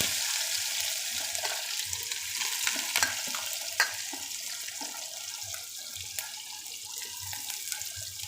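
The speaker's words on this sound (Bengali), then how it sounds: "এবার কিছুটা পেঁয়াজ ও রসুন কুচি দিয়ে দিচ্ছি" Chopped onion and garlic sizzle in hot oil in a pan, a steady bright hiss with occasional soft stirring taps and no voices.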